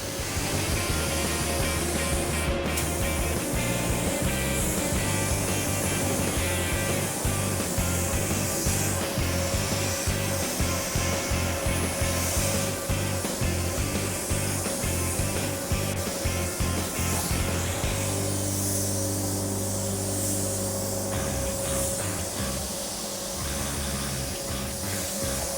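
A spray gun lays down coats of Viper Red paint on a Honda Civic rally car, producing a continuous, loud hissing spray with a steady mechanical hum beneath it and no voices.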